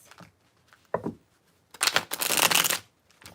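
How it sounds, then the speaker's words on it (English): Tarot cards shuffled by hand in a few quick riffling bursts, with short taps first and then a longer, louder riffle, close and alone. "I'm going to shuffle that 2 more times."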